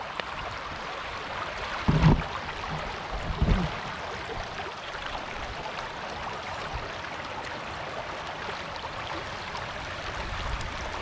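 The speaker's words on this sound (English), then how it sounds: "Material doesn't seem to be washing all the way through the sluice very well." Water rushes steadily as it washes material through a gold sluice, a continuous close wash with a couple of heavier splashes or knocks early on.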